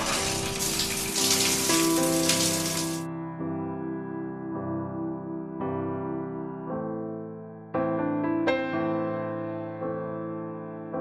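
Heavy rain pours down in Yangon, Myanmar, a loud dense hiss for the first three seconds before cutting off as music takes over.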